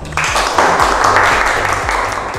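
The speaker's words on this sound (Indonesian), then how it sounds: "Sekali lagi tepuk tangan untuk kelompok" A classroom group of students gives a burst of applause for a presenting class group, a dense, loud wash of clapping that holds steady for a couple of seconds, with faint voices mixed underneath.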